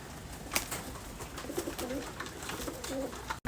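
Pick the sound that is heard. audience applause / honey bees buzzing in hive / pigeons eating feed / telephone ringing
pigeons eating feed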